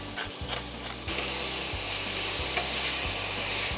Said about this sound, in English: You want to make sure you're constantly stirring just to prevent them from sticking and burning to the bottom.